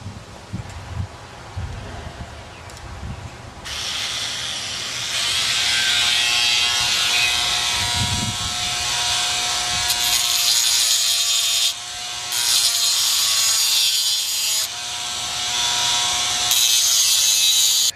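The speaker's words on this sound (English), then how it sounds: "I'm going to drill with a 1/8 inch drill bit and then connect them with a rotary disc, a rotary tool cutoff disc" A rotary tool with a cutoff disc and a drill with a 1/8 inch bit work on a Saiga 20 gauge shotgun during a pistol grip conversion. Soft handling knocks come first, then a loud, steady high whine that cuts out briefly several times.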